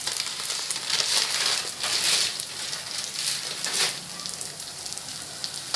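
Green gram lentils (moong dal) dry-roasting in a hot pan, a steady soft crackling hiss with brief louder rustling bursts as they are stirred, close and continuous with no talk.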